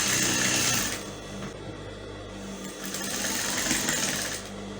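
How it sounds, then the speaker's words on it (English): Sewing machine stitching over an elastic waistband, a steady close mechanical whir that runs almost without break and swells slightly in loudness partway through, with no talking. "And then you stitch now to cover up your elastic inside."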